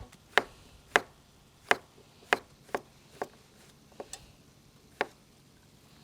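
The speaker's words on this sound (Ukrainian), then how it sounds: "Тепер нарізаємо печериці." A knife slices champignon mushrooms in half on a cutting board, producing about ten crisp separate taps at an uneven pace in an otherwise quiet kitchen.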